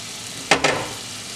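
Thinly sliced beef hits a hot pan in two quick sizzling bursts, a loud hiss that flares and then settles into a steadier fry over a quiet kitchen background.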